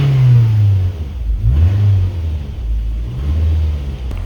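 A car engine, run hot and recently restarted after its spark plugs were pulled, revs loudly in low rising and falling surges, settling into a somewhat rough idle between blips, with no talking.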